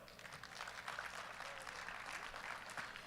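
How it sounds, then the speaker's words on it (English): Crowd at a USA Powerlifting meet applauds as powerlifter Tony Cardella from Texas is introduced, a faint, distant, continuous wash of clapping. "Big round of applause for Tony Cardella."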